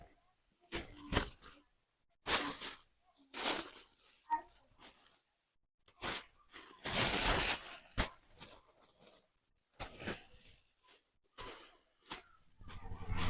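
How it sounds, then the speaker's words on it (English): Tissue paper handled for wrapping small-business products, crisp rustling and crinkling in repeated bursts separated by short pauses, close by. "So we're gonna get a tissue paper."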